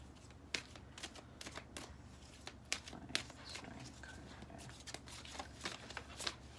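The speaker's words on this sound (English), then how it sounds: "the cards are really hard to shuffle" Close, crisp riffling of a stiff deck of tarot cards being shuffled in quick bursts, with sharp flicks and snaps between, no voices.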